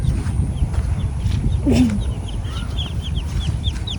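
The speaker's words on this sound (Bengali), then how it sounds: "চীনা হাঁসের বাচ্চা।" Chinese duck chicks calling in a village, a series of quick high peeping chirps repeating close by, with one louder lower squawk partway through over a noisy background.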